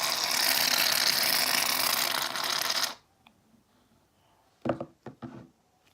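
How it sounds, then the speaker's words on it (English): Can of shaving cream sprayed out for fluffy slime, a loud broad hiss of foam lasting about three seconds that cuts off sharply, followed by quiet and a few soft close handling knocks. "And then I'm going to take my shaving cream, favorite part of all."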